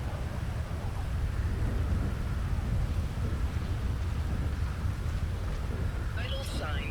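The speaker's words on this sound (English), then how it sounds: "I can't hear you over the storm, Richard." Thunder and rain during a storm at sea form a continuous dense roar with heavy low rumbling, loud and unbroken, while a faint voice or electronic tone surfaces near the end.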